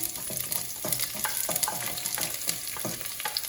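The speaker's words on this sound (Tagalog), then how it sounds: "I just put a little bit oil in it just to fry our onion" Onion frying in a little oil in a pan, a loud continuous sizzle close up with repeated crackling bursts and stirring scrapes, no voices.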